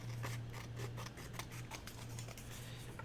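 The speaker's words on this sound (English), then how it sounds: "And then we'll trim it off." Scissors trim scrap paper for a journal, giving a close, quiet run of crisp, rapid snipping and rustling cuts that continue steadily for about three seconds without talk.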